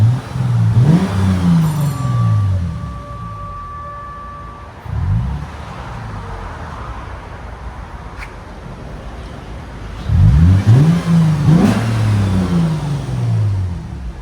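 A 2013 Lexus GS 350 3.5L V6 revs up in short bursts, its exhaust with aftermarket resonators giving a deep throaty note rising and falling, with quieter idling between the revs.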